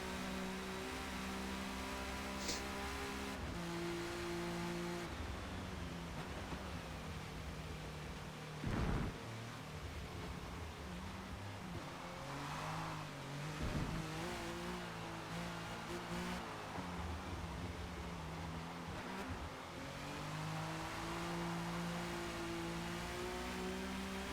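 A Buick racing in Forza Motorsport, likely on a wet track, its engine droning and revving under heavy throttle, rising and falling in pitch through shifts and corners for over twenty seconds with no talking.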